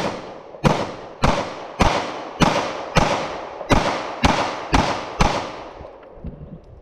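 Taurus G2C pistol firing Winchester 115 grain FMJ rounds: nine sharp, loud shots in a steady rhythm roughly every half second, each with a short echoing decay, then a quiet tail.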